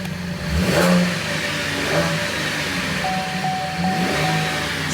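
A 3.8-litre V6 car engine with automatic transmission revs up and settles, a smooth mid-pitched drone rising and falling over a few seconds, with a faint electronic beep partway through.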